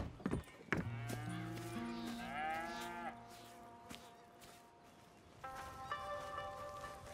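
Cattle low and moo in Red Dead Redemption 2: a loud, drawn-out moo at the start, then quieter lowing and a few more moos later, set against faint outdoor ambience.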